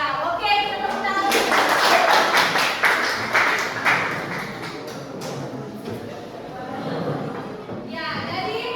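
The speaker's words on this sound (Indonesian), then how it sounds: "Iya, oke, kita tepuk tangan." A group of children and adults claps hands together in a classroom training session, a burst of dense, fairly loud clapping that fades as voices talk over it.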